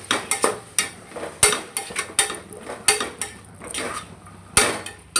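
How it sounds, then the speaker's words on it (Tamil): Cut vegetables being stirred in a pan, with a series of sharp metallic scrapes and clanks from the spoon against the pan at an uneven pace, close and alone. "எல்லாத்தையும் ஆட் பண்ணி நல்லா ஒரு டைம் கிளறி விட்டுக்கலாம்"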